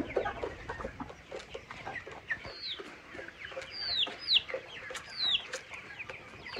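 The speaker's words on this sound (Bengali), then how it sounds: "এটা একটা মোরগ।" Chickens and a rooster cluck on a poultry farm with busy, overlapping short clucks and several higher squawks, moderately close and continuous, with no talking.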